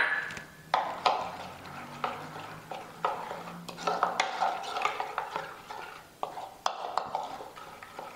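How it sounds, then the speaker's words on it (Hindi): Ginger garlic paste is stirred into a karahi with a metal spoon, producing steady scraping and clinking against the pan over a soft sizzle, close and rhythmic throughout. "इसको अच्छे से मिक्स कर लें, अदरक लहसुन का पेस्ट,"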